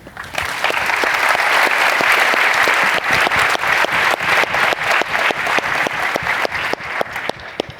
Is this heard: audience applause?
yes